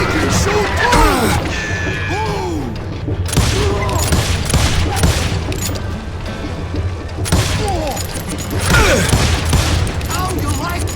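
Rapid gunfire and explosive booms in the Western shooter game Call of Juarez Gunslinger, with repeated loud shots, crashes and ricochet-like whines mixed with game music and shouting voices throughout.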